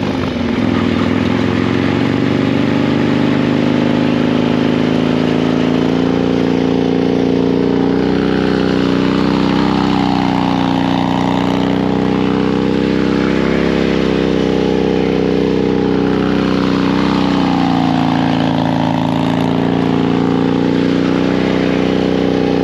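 A Harley-Davidson motorcycle engine runs steadily and loudly throughout, with a deep rumbling idle and slow rises and falls in pitch as the bike coasts and is eased along during low-speed riding practice.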